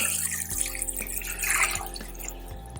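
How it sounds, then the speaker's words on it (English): Water runs from a tap in a steady gush, splashing into a pot of mutton or lamb nearby, with no talking. "cover with water"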